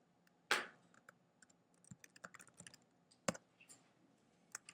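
Keystrokes on a computer keyboard while typing a name into a Google Docs outline, scattered individual clicks with a louder burst near the start and another later, close and fairly quiet.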